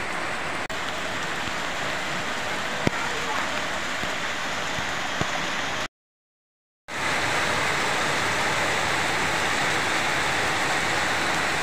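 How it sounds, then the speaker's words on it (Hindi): Rain falling at night, a steady, dense hiss of drops on surfaces, moderately loud and unbroken apart from one brief dropout of silence midway, with a few faint isolated ticks. "रात में बारिश हो रही है।"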